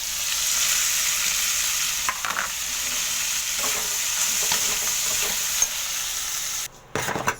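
Hotdog pieces stir-frying for sopas, a steady bright sizzle running throughout with repeated scraping knocks of a utensil against the pan, briefly dropping out near the end.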